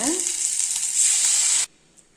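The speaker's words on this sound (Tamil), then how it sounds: "இப்போ மசாலாவை ஊற்றிடலாங்க" Ground masala paste hits hot tomato gravy in a pan with a loud, close burst of hissing sizzle that holds steady for about a second and a half, then cuts off abruptly to near silence.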